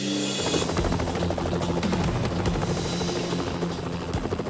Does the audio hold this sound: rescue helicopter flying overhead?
yes